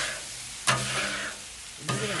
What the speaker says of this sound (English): we're going to take a little bit of water and we're going to put that on there to help lift off any of the old grease